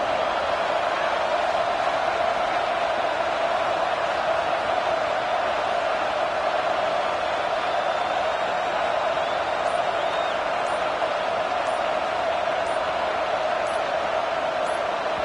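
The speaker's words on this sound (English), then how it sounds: "The crowd electric, trying to help Tech on this third down." Stadium crowd at a Texas Tech home football game against Texas, a dense sustained roar filling the stands during a third-down play, loud and steady throughout.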